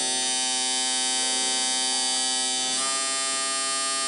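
Surker electric shaver running with a steady, bright buzzing whine, loud and close, holding constant with a slight pitch change near the end and no talking.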